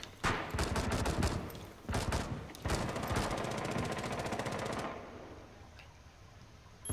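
Rapid bursts of automatic gunfire from a Rainbow Six Siege match on the Coastline map, close and loud, with sharp repeated volleys over about five seconds before tapering into quieter ambience.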